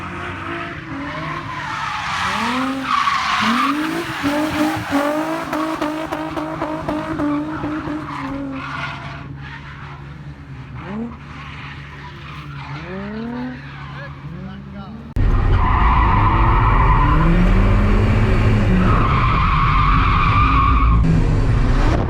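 A go-kart drifts around an outdoor karting track, its tyres squealing in repeated swooping skids over a buzzing small engine, then a louder, closer engine roar takes over near the end; people talk over it.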